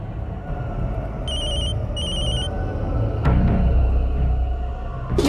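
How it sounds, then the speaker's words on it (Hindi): A mobile phone rings with two short bursts of a bright electronic trill over steady background noise like passing traffic, followed by a low rumble and a clunk. "अरे कब से तेरा फोन बज रहा है?"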